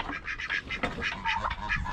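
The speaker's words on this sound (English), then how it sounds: "two drakes." Drake ducks quack in raspy, repeated bursts, several calls in quick succession close by and fairly loud, with no one talking.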